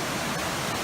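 The Adams Canyon Waterfall near Layton, Utah, rushes with a loud, steady, broadband roar that holds unchanged throughout, with no voices over it.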